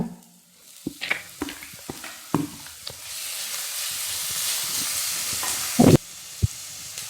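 Shallots and green chilli frying in a pan as tomato is added for a Kerala fish curry: scattered stirring knocks and clatters give way to a steady broad sizzle, with a sharp clank near the end.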